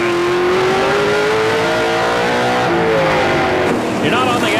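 A NASCAR Canadian Tire Series stock car roars at full throttle on a short oval during the 2008 Pizza Pizza 300, its engine note climbing steadily and loudly with a dense, continuous harmonic drone and broad track noise.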